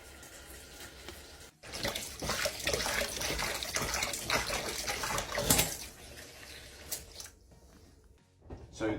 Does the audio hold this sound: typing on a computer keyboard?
no